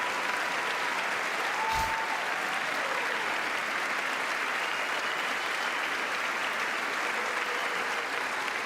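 Sustained, loud crowd applause filling a large hall during the State of the Union address, dense and continuous for the whole stretch without a break.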